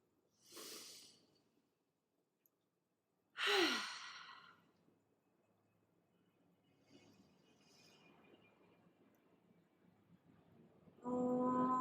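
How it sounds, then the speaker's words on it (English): Two deep exhaled breaths during a yoga and meditation session, each a breathy sigh a few seconds apart in a quiet room, followed by faint rustling and the start of a hummed chant. "First, a cleansing breath."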